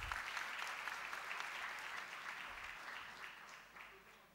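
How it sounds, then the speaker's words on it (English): Applause from an audience at a valedictory session, a steady patter of many hands clapping that holds through most of the stretch and gradually thins and fades toward the end, quiet and somewhat distant. "I would like you to give him a round of applause for that."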